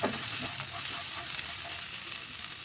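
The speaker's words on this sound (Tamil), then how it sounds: "இப்போ நம்ம வதக்கலாம்." Mudakathan keerai (balloon vine leaves) sautéing in a pan, giving off a steady, soft, even sizzle throughout.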